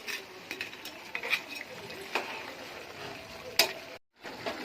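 Crab gravy with ground coconut paste being stirred in a pot, with light bubbling and scattered ladle taps and scrapes against the metal, one sharper clink, and a brief silent gap near the end.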